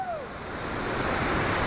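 A big creek along the Big Beaver Trail rushes in a steady, loud broadband roar of water that fills the whole stretch without pause.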